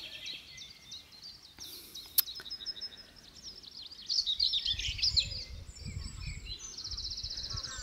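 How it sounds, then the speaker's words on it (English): Birds chirp and trill in a quiet, dewy early-morning food forest garden, a lively burst of song midway over a soft background rustle. "I really hope you can hear the birds"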